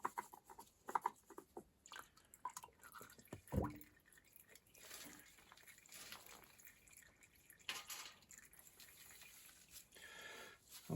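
Engine oil draining from a dirty BMW F650GS motorcycle during an oil change, heard as faint, irregular dripping and trickling with scattered small splashes and handling noises, fairly quiet and close throughout.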